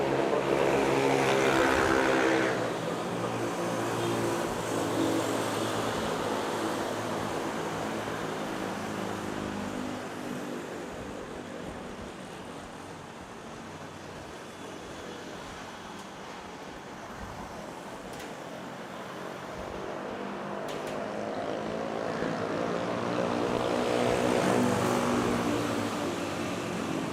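Philippine Air Force C-130 propeller transport plane near Manila airport, a steady broad engine and propeller drone that swells loud at the start and end and dips softer in between, heard alone.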